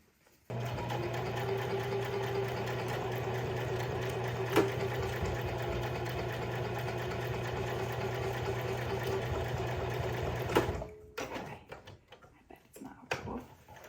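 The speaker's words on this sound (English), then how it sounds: "Fortunately, I'm only sewing 1/2 inch each time." A sewing machine hems a pair of jeans in short half-inch runs, its motor whirring steadily and close for about ten seconds before stopping, followed by a few faint handling clatters.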